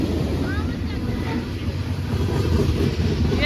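Freight train hopper cars rolling past, some shaking badly, producing a continuous low rumble with wind buffeting the microphone; short, steady and without clear individual clunks.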